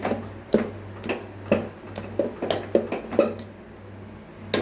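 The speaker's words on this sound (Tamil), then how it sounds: "கலந்து விட்டுணும்." A spoon scrapes and clinks rhythmically against a pot while stirring sugar into payasam, irregular metallic taps repeating every half second or so over a low steady hum, no talk.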